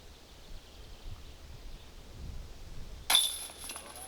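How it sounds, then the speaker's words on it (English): Soft outdoor rustle for a few seconds, then a sudden bright metallic jangle of disc golf basket chains ringing out and fading, fairly close, during a disc golf tournament round. "the sound of birds and the occasional clinging of the chains"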